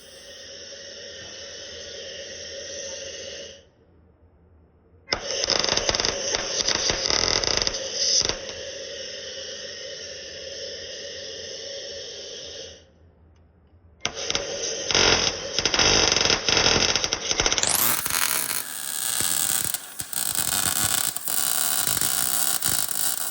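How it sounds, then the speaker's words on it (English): A welder buzzes and crackles while fusing a new steel plate onto a Land Rover Defender chassis, in long continuous runs with short silent pauses between them, loud and near. "here Shawn's welding a new plate where the spring base will be bolted to."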